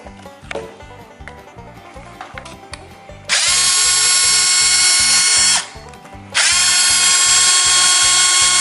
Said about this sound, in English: Just got to take that nut off that slipper clutch.